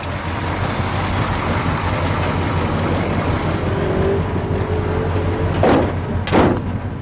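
A green 1968 Chrysler 300 two-door with a 440 V8 idles close by in a steady, loud rumble, with two brief sharp knocks near the end.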